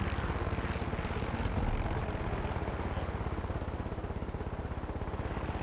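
A helicopter landing in the video game Far Cry 6, its rotor beating in a fast, even pulse under a steady engine roar, moderately close and sustained without talk.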